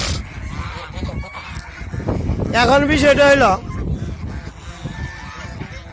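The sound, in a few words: geese honking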